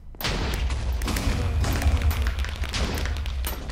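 Gunfire from the Minecraft minigame QuakeCraft: a loud, dense barrage of overlapping shots and thumping booms that runs without pause for nearly four seconds.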